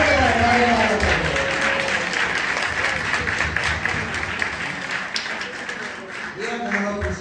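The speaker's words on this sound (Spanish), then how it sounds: "aplauso fuerte" Loud, sustained applause from a church audience at a rosary campaign gathering, dense clapping filling the whole stretch with a voice speaking over it at the start and end.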